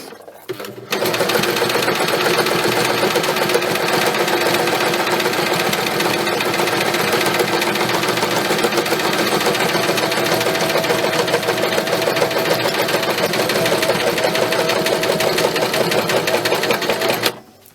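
A sewing machine set to a longer stitch runs steadily through thick layers of tufted fabric for chenille quilting, a close, continuous whirring drone after a brief start that holds unbroken for the whole stretch before stopping.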